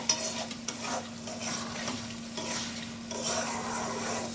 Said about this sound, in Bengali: কড়াইয়ের গাটা এইভাবে কাচিয়ে নিতে হবে।